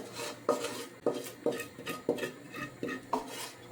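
Noodles are stirred in a pan with a utensil, producing a steady series of about six rhythmic scraping clanks roughly every half second, close and fairly loud, with no talk.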